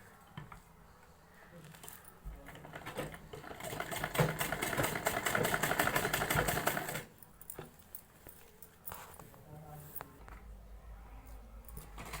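A sewing machine stitching a belt for a salwar, a fast rattling run of stitches that swells for several seconds and then stops, with quieter handling and a faint hum before and after.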